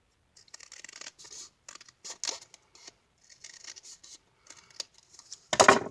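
Scissors snip through craft paper in short, close, crisp bursts, quick runs of cuts broken by brief pauses, ending in one louder rustle.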